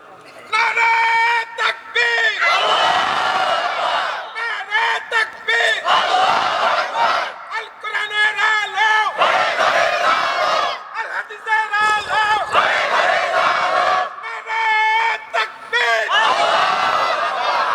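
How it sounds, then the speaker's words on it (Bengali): A large crowd at a Bangladeshi waz religious gathering loudly shouting takbir, several powerful chanted bursts from many voices together, separated by brief gaps. "সব বাদ দিয়ে দারাজ কণ্ঠে একজন তাকবীর দেন তো দেখি"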